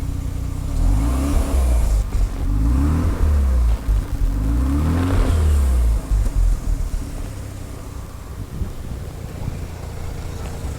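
A Mazda RX-7 Type RZ FD3S rotary engine that needs an overhaul is revved in several rising and falling sweeps, its exhaust note loud and close with wind buffeting, before it settles toward a steadier idle.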